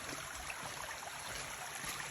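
A stream flows at a cable crossing on a hiking trail on the Foothills Trail, a steady broadband rush of water with no breaks, moderately loud and continuous, with no talk.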